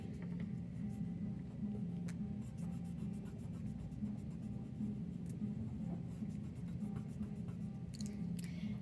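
Pastel being drawn and blended on paper, a steady soft scratchy rubbing that carries on throughout, close and quiet, with a few faint brief ticks and no voices.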